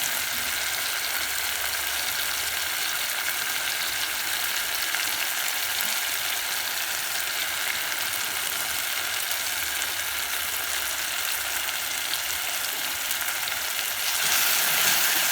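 Cabbage stir-fries in a pan over medium heat, a steady, close, even sizzle and crackle that runs unbroken throughout, with no talking.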